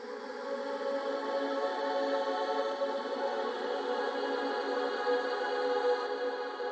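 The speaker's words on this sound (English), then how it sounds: "So what I've found here is this really long ambient pad vocals" Long ambient pad made from a vocal sample for liquid drum and bass, a steady airy drone of layered sustained tones with no breaks, soft and smooth throughout.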